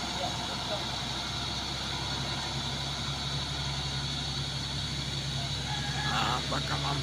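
A Colt Diesel HDL Euro 4 truck engine drones steadily as it pushes up a dusty hill, a continuous low rumble with no clear rise in revs, and voices come in faintly near the end.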